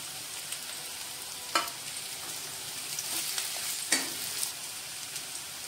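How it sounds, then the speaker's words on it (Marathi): Green chillies and curry leaves fry with onion in hot oil, making a steady close sizzle with a few sharp stirring clinks against the pan. "आता मी त्याच्यामध्ये मिरची टाकते, कढीपत्ता"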